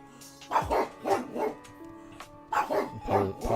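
A dog barks indoors in several spaced bursts, two clusters of moderately loud woofs separated by a short pause, with no speech.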